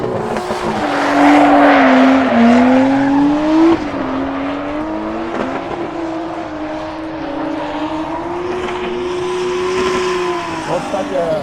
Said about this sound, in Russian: Вот, кстати, 20-й номер на белом Скайлайне сейчас прогрел резину.